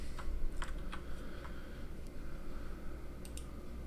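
Quick clicking keystrokes on a computer keyboard, a few sharp taps in short bursts, close by over a low steady background hum, with no talking.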